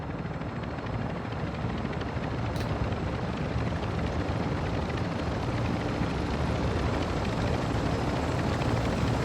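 Helicopter in the Call of Duty Modern Warfare II DMZ game, a steady, loud rotor and engine roar holding throughout with no break, heard alone without talk.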